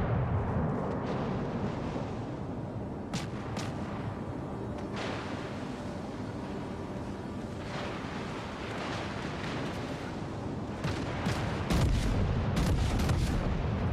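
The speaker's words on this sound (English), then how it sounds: "His guns are definitely firing quicker than mine." Battleship guns in the World of Warships Legends video game boom repeatedly over a dense, continuous rumble of naval battle, with heavy blasts clustered near the end.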